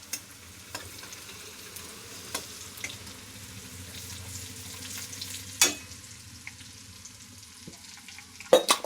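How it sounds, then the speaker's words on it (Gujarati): Garlic-chili paste stirred into hot oil with crackled mustard and cumin seeds, a quiet close sizzle punctuated by a few sharp spoon clacks against the pan. "લસણ મરચાંની પેસ્ટ સારી રીતે મિક્સ કરી દઈશું"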